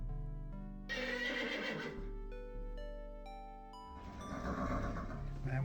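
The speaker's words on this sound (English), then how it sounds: "Wait for the screaming horses." Screaming horses neighing in The 11th Hour video game, two loud shrill whinnies separated by a stretch of tonal musical notes, with no one talking over them.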